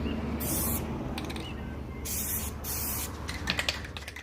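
Plasti Dip sprayed from an aerosol can onto a car taillight in several short hissing bursts separated by pauses, with a few faint clicks and rattles near the end, close and moderately quiet.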